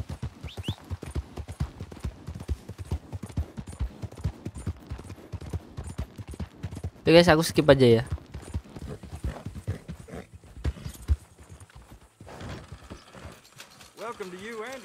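Hooves of a Missouri Fox Trotter horse in Red Dead Redemption 2 clop in a fast, steady rhythm through the whole stretch. Someone talks over them, and a brief burst of louder game noise breaks in midway.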